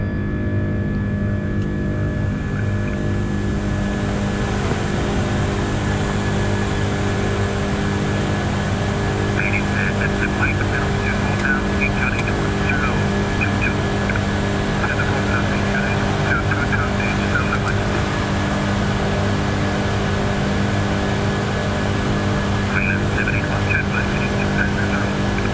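Air Greenland Airbus A330 taking off at Copenhagen, a steady loud jet engine roar with broad rumble that holds throughout, a faint whine rising over it, and tower radio chatter intermittently in the background.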